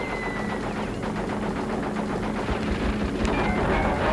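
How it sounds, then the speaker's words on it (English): Enemy minions firing in the video game Crash Bandicoot Warped, a dense continuous rattle of rapid game gunfire layered over a steady background, with no pauses. "It'd be a lot easier if Cortex's minions weren't shooting all the time."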